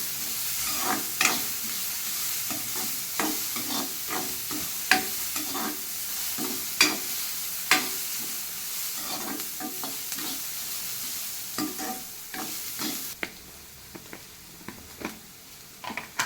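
Carrot and onion sauté for rava idli while a spoon stirs them in a pan, with repeated scraping taps over a steady sizzle and no talking.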